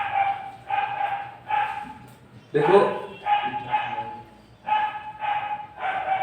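A dog barks repeatedly in short bursts close by, with a person speaking over and between the barks in what sounds like an indoor classroom setting.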